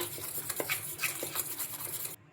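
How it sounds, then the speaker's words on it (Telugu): Batter paste mixed in a bowl with a spoon or fork, quick close clinks and soft wet scrapes in an uneven rhythm, quiet, stopping abruptly near the end. "ఇలా స్పూన్ తోటి కానీ ఫోక్ తోటి కానీ బాగా ఇలా కలిపేసుకోవాలి."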